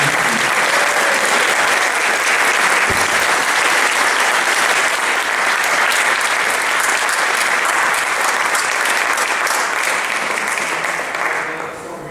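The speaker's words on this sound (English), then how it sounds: "a big round of applause for these" A large crowd at a high school athletic hall of fame ceremony claps in a long, loud, sustained round of applause that tapers slightly at the very end.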